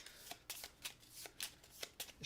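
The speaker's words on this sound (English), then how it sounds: "We take in the cards for the next season, which is spring, and we shuffle these in together" A deck of cards being shuffled during a solo tabletop board game, a series of about eight crisp riffling bursts in quick, fairly regular rhythm, close and alone.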